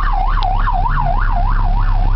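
Wailing emergency vehicle siren used to push through a crowd, rising and falling in steady cycles about every quarter second, loud and close with constant traffic rumble beneath.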